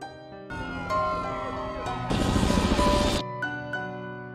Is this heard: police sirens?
yes